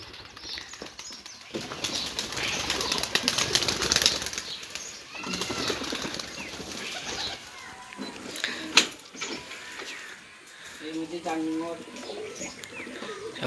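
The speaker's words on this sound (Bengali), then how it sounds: "কবুতর সব ছাড়ছি" Bursts of wing flapping as pigeons take off, with soft cooing and people talking nearby.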